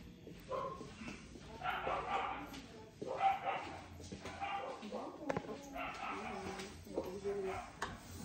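Several short dog barks and yips come in bursts over a few seconds, mixed with people talking nearby.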